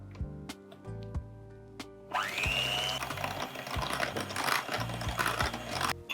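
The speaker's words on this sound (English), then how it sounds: "Add it all to the mixing bowl and beat it together until it's nicely combined" An electric mixer beats coffee loaf ingredients in a mixing bowl, starting after a few faint clicks and then whirring steadily for several seconds, close and fairly quiet.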